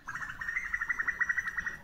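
Sparrows chirping near a home, a quick run of small rhythmic tweets, close but soft, with no talk over them.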